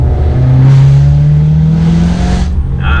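A BMW E92 M3 with an Armytrix valved exhaust open revs hard, a loud close engine note climbing steadily before cutting off sharply, with a brief burble at the end.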